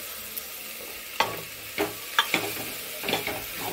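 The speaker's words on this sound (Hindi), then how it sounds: "अब 4-5 मिनट तक इसको फिर मिलाते रहेंगे।" Chana matar curry of chickpeas and green peas is stirred as it fries, with a steady soft sizzle broken by four or five sharp scraping strokes spaced unevenly, close and fairly loud.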